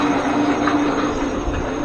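A drill bores through a 52-year-old steel leaf spring on a Loadstar truck front end, a steady loud grinding whir with a high metallic whine running throughout, close by and without speech.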